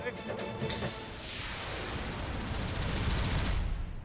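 Gunfire crackles through a dense, noisy scene in a Hindi comedy, a rapid burst of sharp shots early on that blurs into a sustained wash of loud, rumbling noise.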